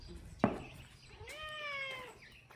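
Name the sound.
cat meowing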